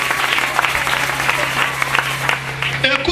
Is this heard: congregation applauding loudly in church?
yes